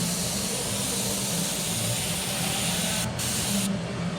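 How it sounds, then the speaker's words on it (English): An airbrush spray gun sprays paint with a continuous, steady hiss of air, close and unbroken for about four seconds, with a brief lighter dip near the end. "drop the spray gun down a little bit, and just kind of highlight this bottom"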